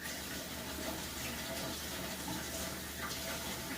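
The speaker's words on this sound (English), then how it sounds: "You're gonna you have to wash the strawberries freshly before you even cut them" Tap water runs in a steady, close, loud gush into a sink as fresh strawberries are washed, a continuous splashing stream with no speech.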